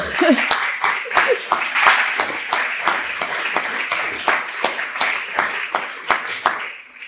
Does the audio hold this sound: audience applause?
yes